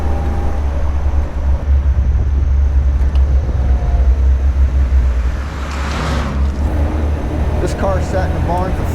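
A 1977 MGB roadster with a 4-cylinder engine and 4-speed transmission drives along, its low engine rumble and road noise steady throughout, with a voice talking over it.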